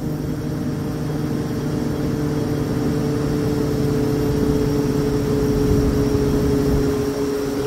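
A Ziehl Abegg EC blue fan motor running up, a loud steady electric hum with stacked tonal whine and airy rush that swells slightly over several seconds, close and alone.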